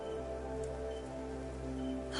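Steady rain falls in the video game Infinity Nikki, a soft, even patter that runs unbroken under a faint low hum throughout.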